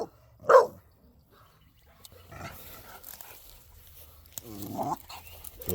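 A single loud, sharp bark comes from a young American Bully puppy during an obedience training session. Afterward there are quieter rustles, a little faint talk and some background noise.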